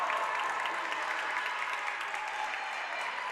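A high school basketball crowd in a gym roars and claps after a made basket, a steady, dense wash of cheering and applause with no break.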